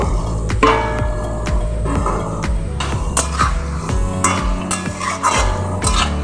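Potatoes are added to a pan and stirred while cooking Bata fish kalia, with steady scraping of a spoon against metal, clinks of cookware and a soft sizzle underneath.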